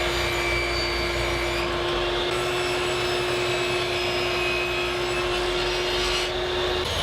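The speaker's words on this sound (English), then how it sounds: "Then I'll just rip it down into 3/4 inch strips." A table saw rips a scrap of maple into three-quarter-inch strips, a loud continuous whine and roar with a steady tone throughout, slight changes as the blade cuts through the wood.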